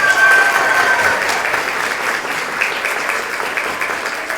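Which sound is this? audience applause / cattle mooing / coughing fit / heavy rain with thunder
audience applause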